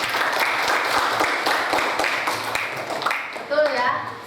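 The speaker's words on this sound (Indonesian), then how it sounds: "tepuk jawabannya Arif" A classroom of students claps together to praise a classmate's correct answer during an Indonesian language lesson. The clapping is brisk and rhythmic under a busy room, and a voice speaks near the end.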